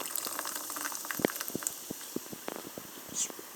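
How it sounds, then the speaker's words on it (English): Blackberry Hibiscus sparkling water poured into a glass, giving a steady fizzing trickle with scattered small splashes and bubbly crackle, close and fairly quiet. "you pour in the rest of the water"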